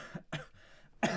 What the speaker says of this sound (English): so sorry for my coughing.